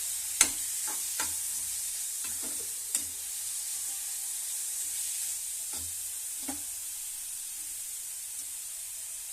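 Chopped garlic sizzling in hot oil for carrot beetroot rice, a steady fry hiss with a few sharp stirring clicks and scrapes of the spoon in the pan, no talking.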